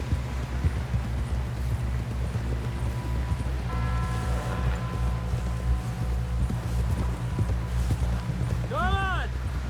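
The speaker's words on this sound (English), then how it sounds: "Someone help John down off this horse" Horse hooves clip-clopping steadily in a Red Dead Redemption 2 ride, a continuous rhythmic gallop under low rumble and background game ambience, with a brief whinny-like tonal sweep near the end.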